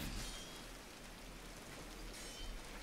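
Steady rain in the Like a Dragon: Ishin! video game, a dense, even hiss of falling water with a low rumble underneath, unbroken for the few seconds and without speech.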